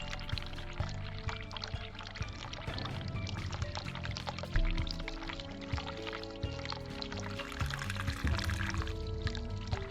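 Water pours and splashes steadily as a character washes with soapy lather in the video game The Cat Lady, a continuous liquid rush running the whole time, with tonal background sound layered underneath.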